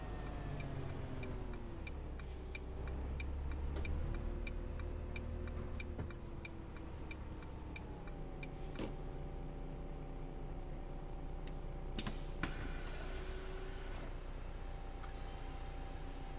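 A bus engine in the Yorkshire Counties bus simulator game hums steadily throughout, with a regular ticking like an indicator and occasional clunks as the bus drives along.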